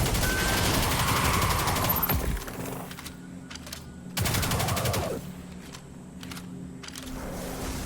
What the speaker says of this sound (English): At this point I will switch to the submachine gun.